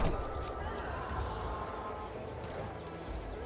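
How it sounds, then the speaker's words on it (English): Horses gallop in the strategy game Imperator: Rome as horse archers ride around an enemy's flanks, a dense continuous rumble of hoofbeats mixed with battle noise, loud and steady throughout. "We got the horse archers just riding around their flanks, encircling them, murdering them."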